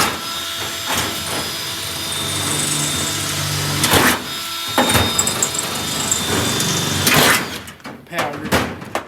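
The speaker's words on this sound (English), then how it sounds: "Good sharp drill bit, eh?" Power drill with a sharp bit boring into metal while riveting panels on an old car in a workshop: a steady whining drill run broken by loud knocks and clatter, with speech over the top.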